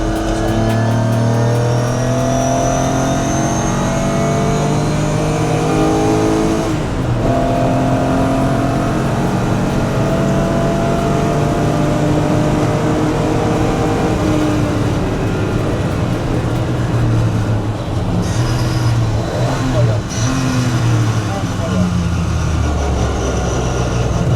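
Historic 1963 Jaguar race car accelerating on the Magny-Cours circuit, a loud continuous engine roar with rising harmonics and brief gear-change dips, heard close up from onboard for the whole stretch.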